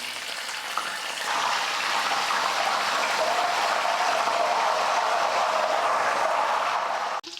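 Banana slices fry in hot oil as turmeric salt water is added, a loud, even hiss and sizzle that holds steady for several seconds before cutting off abruptly.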